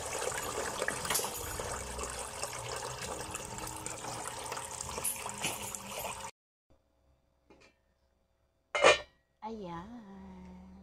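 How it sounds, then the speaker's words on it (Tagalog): A kettle of water is poured into a pot while making chocolate rice porridge for breakfast, a steady close splashing pour lasting about six seconds, then near silence and a short spoken remark. "Tapos, lagyan natin ng isang katerbang tubig."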